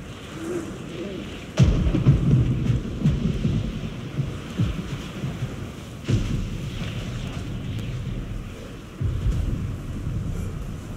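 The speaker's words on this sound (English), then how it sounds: "Just a little thunder" Thunder in God of War Ragnarok rolls in three heavy, close booms, each bursting suddenly and then rumbling off over a steady wash of rain and wind.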